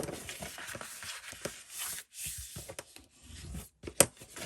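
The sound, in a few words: folding and burnishing paper score lines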